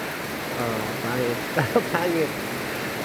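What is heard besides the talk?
rain falling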